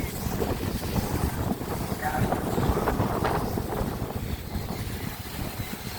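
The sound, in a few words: strong wind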